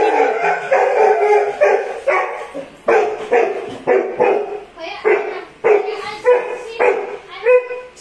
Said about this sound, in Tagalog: itong aso na nakakita ng ibang tao nagwawala